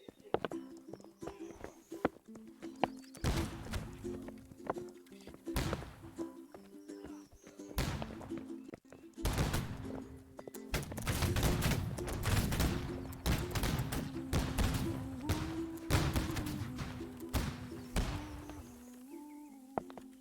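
Gunfire salute volleys at a ceremony in a video game, sharp loud shots scattered irregularly, sometimes in quick clusters, over steady sustained music tones.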